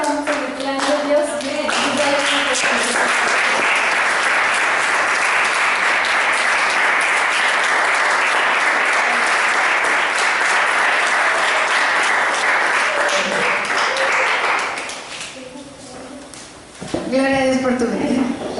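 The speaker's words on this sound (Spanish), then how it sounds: "darle un aplauso a Dios" Congregation applause at a Sunday school gathering, loud sustained clapping for about twelve seconds that fades out, with voices speaking before it starts and again after it ends.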